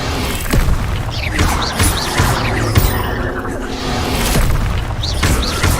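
Spell explosions from the video game Hogwarts Legacy, a dense run of booming blasts and crashes layered over busy game effects, loud and continuous with repeated heavy impacts throughout.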